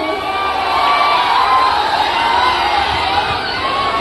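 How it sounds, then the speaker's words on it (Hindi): Loud crowd at a night stage show in Muzaffarpur cheers, whoops and shouts continuously for the whole stretch, a dense, steady roar with children's shrill voices mixed in. "जोरदार ताली बजा दीजिए।"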